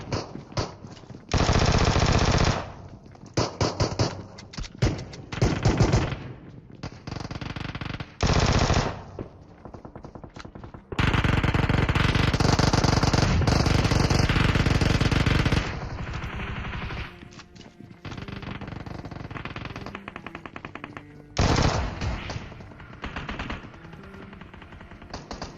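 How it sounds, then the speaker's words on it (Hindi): Intense gunfire from all sides in a PUBG battle royale match: loud sustained machine-gun bursts and rapid shots, with dense volleys and brief pauses throughout. "अब यार यहाँ पे चारों तरफ से इतनी गंदी वाली फायरिंग हो रही है"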